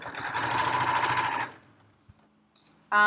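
A sewing machine runs in one steady burst of rapid stitching on fabric for a library bag, then stops, leaving near silence broken by a few small clicks and a brief final whir.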